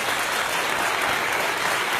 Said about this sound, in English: those of you who applauded